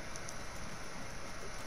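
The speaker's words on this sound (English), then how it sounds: "Dude, it's raining outside." Rain falls outside in a steady, even hiss of drops striking surfaces, a continuous wash with no voices.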